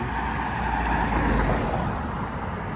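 A car or other road vehicle goes by on a street, its broadband road and engine noise swelling steadily to a peak near the middle and easing slightly toward the end, with no talking over it.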